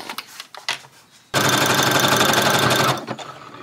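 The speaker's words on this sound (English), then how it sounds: "You're going to start with sewing that pocket to that one pant leg." An electric sewing machine stitches a pocket onto a pant leg in one loud, rapid, even burst of mechanical clatter lasting a second and a half, preceded by a few small handling taps.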